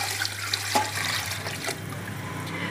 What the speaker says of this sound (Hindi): तो ये मैंने बर्तन 1 चावलों का लिया था और 2 मैं पानी के डाल रही हूँ